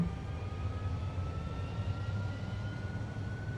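Airliner jet engines spool up for takeoff in the X-Plane 11 flight simulator at Kansai International, a steady low roar with a thin whine, fairly faint and constant.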